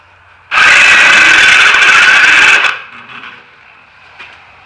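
A loud power drill whirs steadily for about two seconds drilling a large hole in metal, then spins down, leaving quiet background noise.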